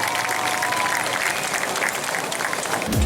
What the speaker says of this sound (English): Ladies and gentlemen, make some noise for Jason Boyd, your winner.